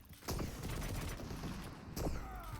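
Two sharp railgun shots crack out in a competitive arena shooter match, spaced well apart, each a loud, bright snap over a low background of game sounds.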